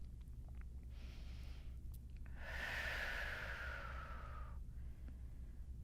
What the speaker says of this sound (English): Inhale to start, exhale to finish.